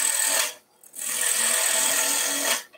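A bowl gouge shears hard boxwood spinning on a wood lathe, shaping a hand plane screwdriver: a steady, close, broadband hiss of cutting with one brief pause before the cut resumes and then stops.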